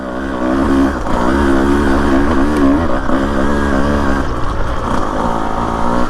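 A Husqvarna TE150 dirt bike climbs an uphill single track near Florence, Arizona. Its engine drones loud and close, holding a steady high-revving pitch that wavers slightly throughout.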